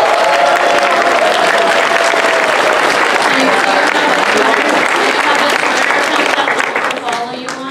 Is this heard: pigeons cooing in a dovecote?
no